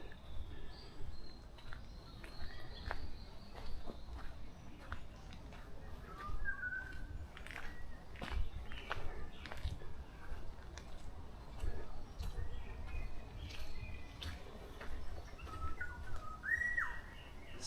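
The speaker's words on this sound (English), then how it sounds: "Oh, the bird is close." Birds call through a forest on Bongseosan on an early morning walk, with scattered sharp chirps and whistles, some close and some distant, over a steady outdoor hush.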